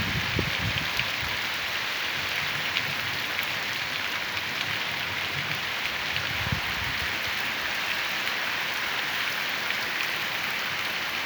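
Steady rain pours at a rural smallholding in Ceará, Brazil, a dense, even hiss that continues without a break, with a few faint thumps and no talking.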